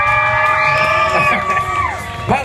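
A crowd at a comedy hypnosis show at the Fresno Fair cheers and whoops loudly, with shouts and a few high yells rising over the din, ending on a sharp burst.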